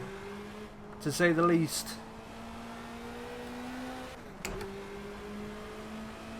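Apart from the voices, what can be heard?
BMW 2002 race car driving in Project CARS video game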